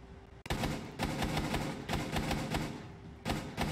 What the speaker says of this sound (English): We're hearing some early gunfire.